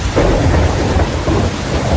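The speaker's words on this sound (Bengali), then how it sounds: "অন্ধকারে বিদ্যুতের গর্জন" A loud rumble of thunder rolls over heavy rain pouring down, dense and close throughout the short stretch.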